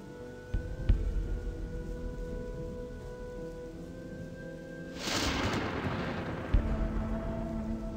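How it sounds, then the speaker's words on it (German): Rain falls steadily in the medieval fantasy game Gothic 2, with a single rumble of thunder joining in partway through, over a faint background music bed. "Aber warum muss es jetzt ausgerechnet anfangen zu regnen?"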